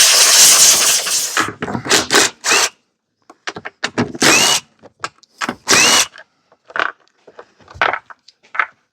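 Compressed air blasts debris off a Troy-Bilt lawn mower in a series of loud, hissing bursts of varying length, some long and some short, close by with no talking.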